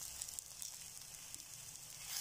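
Hot oil tempering with fresh curry leaves sizzles over potato semolina idli, a soft, steady crackling hiss that stays faint and close throughout.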